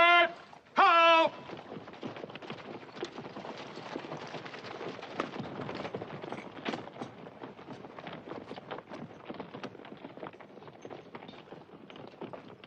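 A troop of cavalry horses sets off at a walk, a dense, continuous patter of many hooves clopping on the ground after a brief shouted command and a short bugle-like call at the start.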